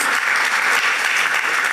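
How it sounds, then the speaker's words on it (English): Audience applause at a government event commissioning educational projects, a steady dense wash of clapping from many hands filling the whole moment, fairly loud and close. "Shall we all give a round of applause?"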